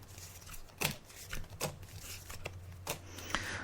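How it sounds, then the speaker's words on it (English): Tarot cards are laid out on a table during a psychic reading, giving a series of soft, separate snaps and slides spaced irregularly over quiet room tone, with no speech. "I'm just laying out the cards now"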